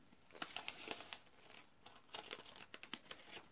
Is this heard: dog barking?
no